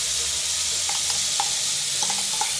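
Tomato-asafoetida paste for tomato pickle sizzles steadily in hot sesame oil, a continuous close frying hiss with a few light stirring clicks and scrapes, no voices.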